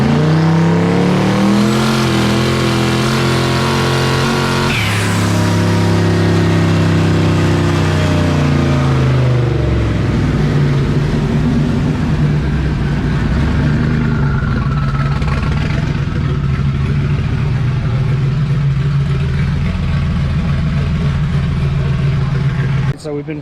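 A junkyard HEMI engine in a truck on a dyno pull roars loudly, its pitch climbing through the gears with shifts near five and ten seconds, then holds a steady high-load drone to the end.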